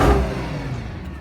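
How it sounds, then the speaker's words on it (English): A 2009 Mercedes-Benz S63 AMG starts up with a loud burst of exhaust that flares and settles into a deep rumble, close and brief with no talking. "let's fire it to life. One of the finest exhaust notes that's ever been put in a motor vehicle"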